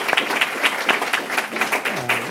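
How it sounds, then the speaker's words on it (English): An audience applauds a panel at a discussion event, with scattered, uneven hand claps for a couple of seconds and a voice rising near the end. "If we could have a round of applause for it."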